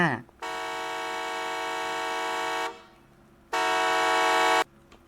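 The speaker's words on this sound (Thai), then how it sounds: "อ๋อ เสียงรถ" Two sustained car horn blasts in the horror video game Midnight Market, the first long and the second shorter after a pause, loud and steady with a synthetic, game-like tone.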